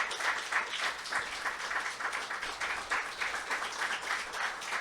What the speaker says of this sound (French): je voudrais qu'on l'applaudisse ce matin